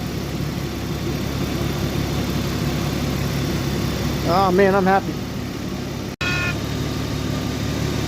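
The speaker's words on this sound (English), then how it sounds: "The car's running phenomenal. The whole engine's back together. Everything running smooth." A rebuilt Genesis G70 engine idles smoothly and steadily nearby, with someone speaking briefly over the constant hum.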